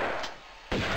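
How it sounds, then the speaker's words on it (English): Harpoon fired at the player in the Tomb Raider game, a sharp loud shot-like crack that cuts in near the end after a sustained whooshing ambience, heard alone without talk. "someone's shooting harpoons at me"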